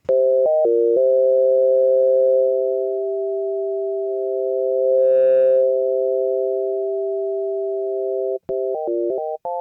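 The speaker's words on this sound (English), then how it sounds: "So it can do ring modulation and like an AM where you can control the amount of carrier." A loud, steady ring-modulation tone from a Roland Aira synthesizer, a pair of close pitches beating together, briefly warbling at the start and end, with a brief metallic shimmer midway.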